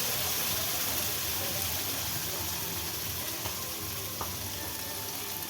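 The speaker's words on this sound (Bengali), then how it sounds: "আর একটু কাজু বাদাম দিয়েছি এটা তেলে ছেড়ে দিলাম" Cashew nuts fry in hot oil in a pan, a loud, steady close-up sizzle with a few small clicks, no one speaking.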